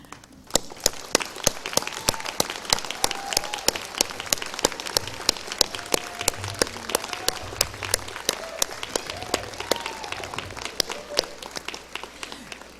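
Sustained applause from a large audience at a Rutgers School of Nursing graduation, with dense, steady clapping and a few sharper claps standing out nearby, lasting throughout without fading.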